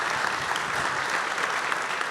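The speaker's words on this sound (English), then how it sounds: "Let's give them a round of applause." A conference audience applauds after a breakout session, with steady, dense clapping filling the room throughout.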